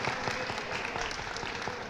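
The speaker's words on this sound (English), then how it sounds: "Let's give him a big applause" Audience applause at a speech contest for a winner, a dense steady clapping from a crowd throughout, close and even in loudness.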